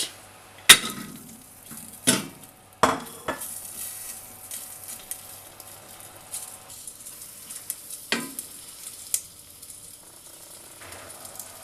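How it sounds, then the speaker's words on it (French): Smoked sausages browning in melted coconut oil in a small pot, with a soft steady sizzle broken by several sharp knocks and scrapes of a utensil against the pot. "je vais y ajouter les saucisses fumées pour les faire dorer"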